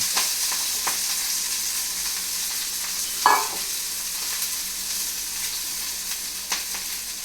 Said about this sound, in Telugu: మళ్ళీ కొంచెం ఒక 2 స్పూన్లు నూనె వేసుకుని ఈ పొన్నగంటి కూరని మన గోంగూర అవి మగ్గబెట్టుకుంటాము